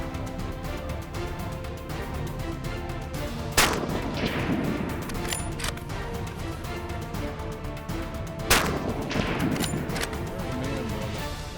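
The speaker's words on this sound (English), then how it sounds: "The first shot was good, and you could hear that Accubon whomp for sure." Rifle shots on a spot-and-stalk bear hunt in coastal Alaska with an Accubond bullet striking a bear at about 170 yards: two sharp cracks several seconds apart over steady wind noise, each trailed by a brief rolling echo.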